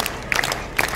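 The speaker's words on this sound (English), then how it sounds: "You're clapping your hands so hard it hurts." Street audience at a balancing act in Covent Garden, London, clapping and applauding in steady bursts, moderately close, with crowd noise and cheers rising twice.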